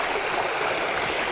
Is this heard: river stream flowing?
yes